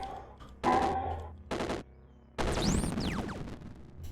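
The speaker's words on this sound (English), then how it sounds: "We're going to try and take out as many of those with one volley of bullets as possible." A burst of gunfire from the video game Caves of Qud: loud rapid shots in several separate bursts, the last one ending in descending whistling ricochet-like tones, with no talking.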